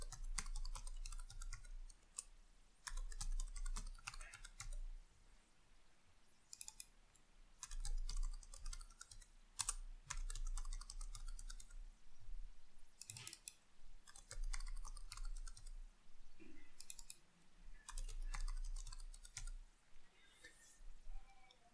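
Computer keyboard typing: intermittent bursts of quiet, close keystrokes and clicks with short pauses throughout, over a faint hum.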